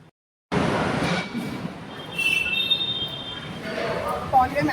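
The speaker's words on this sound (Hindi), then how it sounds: "पहुंच गए मेट्रो स्टेशन।" Metro station ambience with a train rumbling and rolling through, faint wheel squeals and a rising hum, crowd noise and indistinct voices mixed in after a brief silent start.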